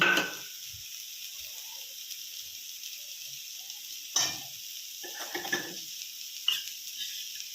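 A spoonful of ghee goes into a pan of boiling potatoes being cooked for a home-style vegetarian dish, followed by a quiet background hiss and a few separate scraping stirs of a spoon against the pan.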